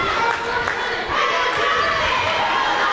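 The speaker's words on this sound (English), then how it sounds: "you can see the Centennial crowd is getting into this one" Crowd noise from the home Centennial fans at a high school boys' basketball game against Oregon City, a steady loud roar of shouting and cheering throughout with no clear breaks.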